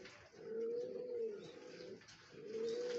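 Pigeons coo in a pigeon loft, giving two drawn-out, soft, throaty calls close by with a short pause between them and no talk.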